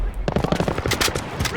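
Rapid automatic gunfire from Call of Duty crackles in quick, evenly spaced bursts, loud and close, filling the short moment with sharp repeated shots.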